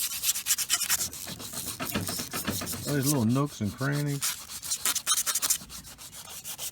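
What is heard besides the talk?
hand sanding paint on Volvo outdrive with 120 grit sandpaper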